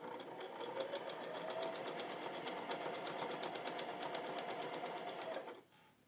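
Sweater fabric being stitched for mittens on a sewing machine: a steady, close, continuous rapid needle rattle running for about five and a half seconds, then stopping abruptly and leaving quiet.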